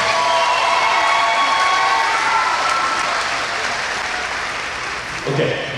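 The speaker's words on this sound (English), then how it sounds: "Give him another round of applause." Crowd at a live Battle of the Blades event breaks into sustained applause with some cheering, a broad wash of clapping that stays strong before gradually easing off.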